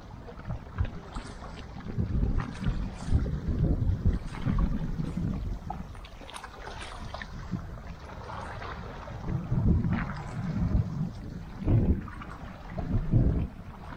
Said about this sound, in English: that wind's carrying it now. That wind at our back.